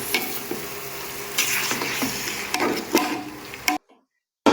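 Mutton biryani masala is sautéed and stirred in a pan. A loud sizzle runs under repeated spatula scrapes, cuts to near silence just before the end, then resumes briefly.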